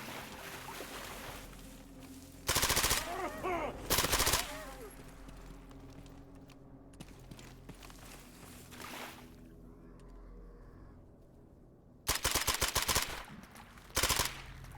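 Bursts of gunfire ring out in the video game Mercenary of the Zone while a zombie is shot, loud rapid volleys in two pairs separated by quieter ambient stretches.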